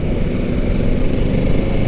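Motorcycle engine noise drones steadily and loudly throughout on a road in Infanta, Quezon, heard as continuous rumbling traffic without distinct passes.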